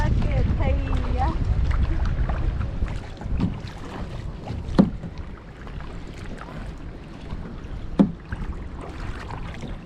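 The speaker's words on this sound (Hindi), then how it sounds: "ये राइट वाला चप्पू चलाओ" Paddles splashing as a canoe is paddled in the Maldives, with wind buffeting the microphone and occasional sharp dips and knocks, under people talking.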